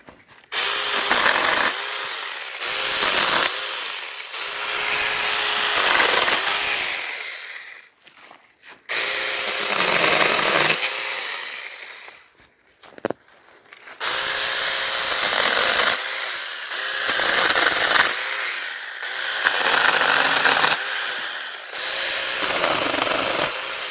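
A Saker mini chainsaw buzzes loudly through wood in repeated bursts, pausing briefly between cuts as the motor drops and revs again.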